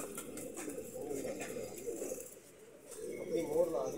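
Teddy pigeons coo in low, rolling murmurs that run almost continuously, dipping briefly and swelling again near the end, with a voice faintly in the background.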